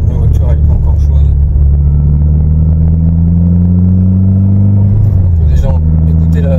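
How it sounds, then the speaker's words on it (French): A Renault Clio 2 RS 172 with the F4R engine, heard from inside the cabin: a steady, deep exhaust drone that holds its pitch, then sags and recovers near the end. "On peut déjà écouter la sonorité de l'échappement, j'espère qu'on l'entend bien de l'intérieur."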